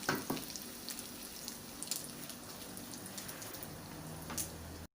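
Minced pork omelette sizzles and bubbles in a pan, a soft steady crackle and hiss with scattered pops throughout, heard up close with no voices.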